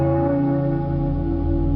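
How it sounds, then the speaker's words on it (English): Church bells toll with a sustained, ringing hum of layered tones that holds steady and loud throughout, like a bell's lingering resonance carrying through empty streets. "the church bells tolled, echoing through the empty streets"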